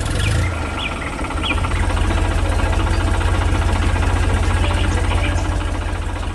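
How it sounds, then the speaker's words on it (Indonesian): Green and yellow farm tractor working in a green field during a grape harvest, its engine giving a loud, steady low rumble with a rapid chugging pulse that carries on without a break. "Lihat itu, traktor hijau dan kuning sedang beraksi di tengah ladang yang hijau"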